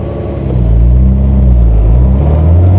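A Nissan GTR drives with a loud, deep engine rumble that swells after a quiet start and holds steady, close and alone.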